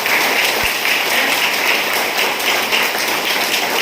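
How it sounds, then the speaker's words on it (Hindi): An audience at a seminar-style talk claps in a steady, dense wash for nearly four seconds, loud and continuous, with one brief low thump early on. "उनके लिए एक जोरदार तालियां बजाइए।"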